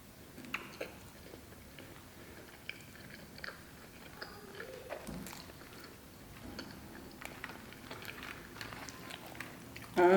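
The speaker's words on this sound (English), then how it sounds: "I'm just gonna try these mozzarella fries first" Someone eats loaded mozzarella cheese fries from Fat Sal's, with soft, close chewing and small bites and mouth sounds spread through the clip, quiet over faint room noise.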